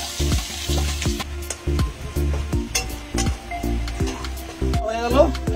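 Onion frying with bay leaf, dried red chili and cumin in a hot pan, a loud close sizzle and crackle that pulses in bursts as the pan is stirred.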